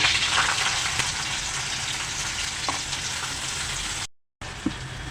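Curry leaves and finely chopped onion fry in a few spoonfuls of hot oil in a kadhai, giving a steady close sizzle with light stirring, briefly cut off near the end.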